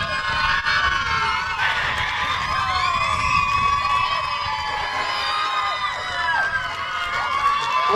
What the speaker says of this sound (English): What a cheering section over here.